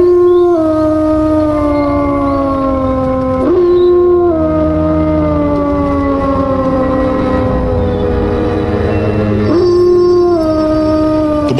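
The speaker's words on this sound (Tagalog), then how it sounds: "sa tuwing may naririnig akong alulong ng aso" A dog howls in long, loud, close drawn-out wails that slide downward in pitch, with fresh howls rising again partway through and near the end.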